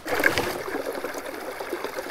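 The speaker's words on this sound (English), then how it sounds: "You hear that little creek," A small mountain creek trickles through an old-growth forest of cedars and snags, a soft continuous burble with light splashy detail, close and moderately loud, no voices.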